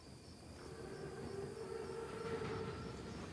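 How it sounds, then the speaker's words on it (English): Rumbling rail noise of a large German armored train rolling along the tracks in Call of Duty: WWII, a steady continuous clatter and drone with a faint tonal whine, fairly constant throughout. "Train's right on time."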